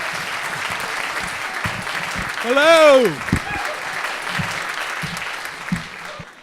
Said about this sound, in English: Please give a big round of applause to Mr.